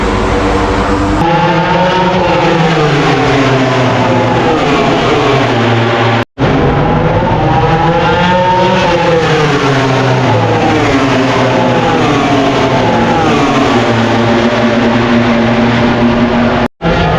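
MotoGP motorcycles in practice at Sepang circuit in Malaysia, a loud, continuous high-revving engine howl rising and falling through gear changes as bikes scream past, cut by two brief drops.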